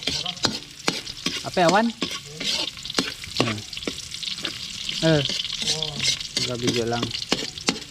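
Ginger sautés in a hot pan while being stirred, a steady close sizzle with scraping stirs, as people talk over the cooking.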